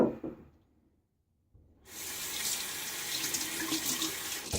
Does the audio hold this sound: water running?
yes